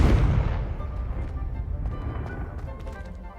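A Confringo blasting spell explodes in the video game Hogwarts Legacy, a loud booming blast at the very start that fades into a rumbling, crackling decay over a few seconds.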